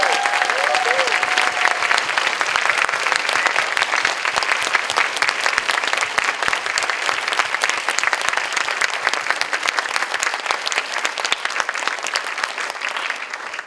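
Steady, dense applause from a school audience at an elementary spring concert for the music teachers, loud and even throughout with no break.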